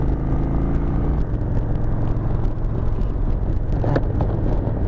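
A car's steady engine rumble and road drone carry continuously while driving, with a brief passing whir near the end and no talk over it.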